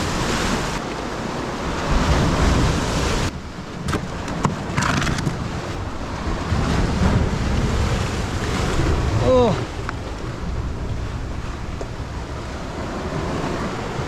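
Ocean surf washing against a rocky shoreline during shore casting, a steady roar of breaking waves with wind noise across the microphone, continuous and fairly loud throughout.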